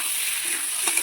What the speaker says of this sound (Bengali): আলুটা দিয়ে দিলাম, নাড়াচাড়া করে নেবো।